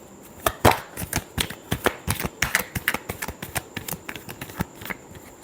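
Tarot cards given a final shuffle, a close, brisk series of sharp papery snaps and flutters in quick irregular bursts, with no talking.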